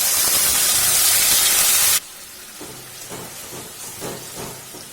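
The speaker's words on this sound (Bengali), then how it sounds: "এটাকে আমি কিছুক্ষণ এইভাবে ভেজে নেব যাতে এর যে কাঁচা গন্ধটা সেটা চলে যায়" A paste of onion, ginger, garlic, green chili and tomato hits hot oil with a loud, bright sizzling hiss for two seconds, then settles into a quieter, crackling fry with soft intermittent spits.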